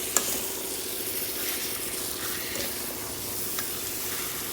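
Mutton gravy frying and being stirred in a pan, a steady sizzle with occasional scrapes and clinks of a spoon, close and continuous without speech.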